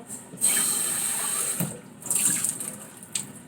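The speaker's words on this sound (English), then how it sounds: "Let me rinse this off." Tap water runs into a kitchen sink while a dish is rinsed, a steady close splashing stream that cuts off briefly partway through and then resumes with uneven gushes.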